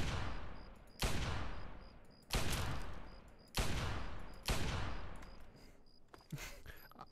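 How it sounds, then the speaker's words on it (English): Gunshots ring out in Fallout 3, five heavy, booming reports spaced roughly a second apart, each with a long decaying echo, fairly near and loud, with no speech. "Oh, someone's shooting at me."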